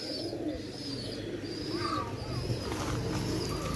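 Pigeons cooing softly against a low rumbling background, with a few thin higher chirps scattered through it.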